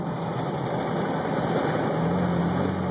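A 2011 Chevrolet Camaro V6 with a custom Magnaflow exhaust rolls along near idle with the windows down, giving a steady low drone and rumble, constant in level, with a faint tone lifting slightly toward the end.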